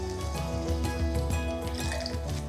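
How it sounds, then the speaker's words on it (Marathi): Water poured into a pot of washed lentils and rice for Khaproli, a steady splashing fill with gurgling and dripping, close and fairly quiet, with no talk. "इथे डाळ तांदूळ एकत्र स्वच्छ धुवून घेतले की यामध्ये पुरेसं पाणी घालायचं"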